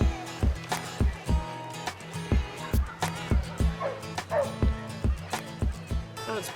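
Several dogs bark repeatedly at an outdoor dog water park event in Broomfield, Colorado, with rapid, loud, overlapping yips and barks nearby, over faint background voices.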